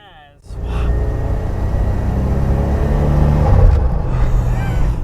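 A 1980s Buick Grand National muscle car with its turbocharged engine, rumbling loud and steady after a brief quiet start, the low drone swelling slightly as it pulls, with a faint rising whine on top.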